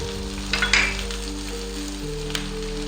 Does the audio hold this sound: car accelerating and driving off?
no